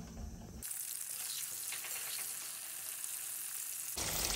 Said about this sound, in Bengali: এবার আলু পটলটা ভেজে নেব